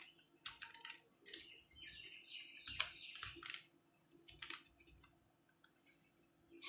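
Keystrokes on a computer keyboard come in quick irregular bursts with short pauses, close and fairly quiet, while faint bird chirps sound in the background.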